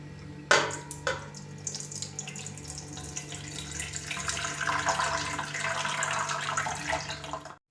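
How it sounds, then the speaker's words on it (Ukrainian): After a couple of clinks, water from jars of pickled tomatoes pours steadily into a pot, the flow building and splashing for several seconds before stopping abruptly. "Зливаємо воду у каструлю."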